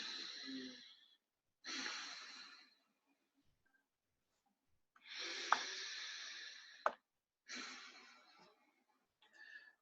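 Slow, deep breaths in a guided breathing exercise, close and quiet, with long airy inhales and exhales separated by stretches of silence, roughly four full breath sounds.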